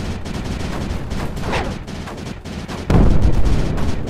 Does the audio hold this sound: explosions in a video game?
yes